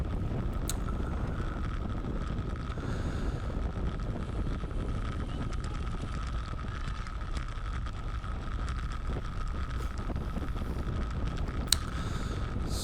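Steady wind buffeting during a bicycle race, a constant loud rush with faint rattles and clicks and no voices.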